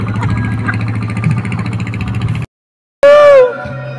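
A motorboat engine drones steadily at close range, cuts out briefly to silence, then returns with a rising whine and a sharp tonal squeal.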